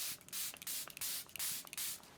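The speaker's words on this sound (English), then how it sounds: "I'm just going to spray this all over." Charlotte Tilbury Airbrush setting spray misted onto a face in a quick series of close, hissing pumps, about eight bursts in irregular rhythm with brief pauses between.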